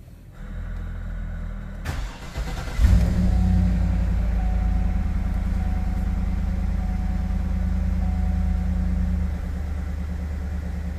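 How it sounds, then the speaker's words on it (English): A 2014 GMC Yukon Denali 6.2L V8 with its DOD system deleted gets a cold start: a brief crank around two seconds catches into a loud, steady, deep idle rumble that holds for the rest of the clip. "we're gonna do the first cold start."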